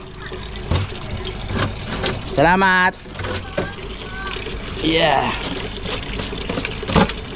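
Drinking water is drawn from a communal source into a bucket, giving a running, splashing fill with gurgles, mixed with clatter and people talking nearby.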